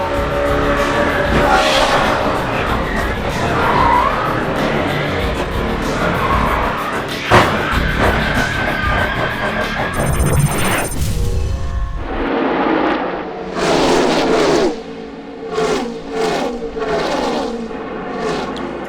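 Kyle Busch's NASCAR stock car at Talladega, heard from on board during pit repairs for damage: a loud, steady engine roar with race noise, then pulsing revving surges in the later half.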